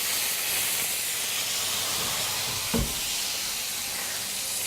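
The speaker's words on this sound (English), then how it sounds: "So it's just sizzling away there." A steady hiss of roast chicken sizzling in a hot pan fresh from the oven fills the clip, soft and even, with one small clunk partway through.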